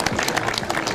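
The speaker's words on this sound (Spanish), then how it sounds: "Un aplauso." Applause breaks out at a golf club's centenary ceremony as a commemorative plaque is handed over, a short dense burst of many hands clapping together at close range.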